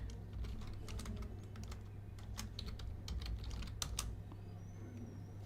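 Quiet, steady clicking of keys on a computer keyboard, irregular bursts of fast keystrokes over a low constant hum, close and alone.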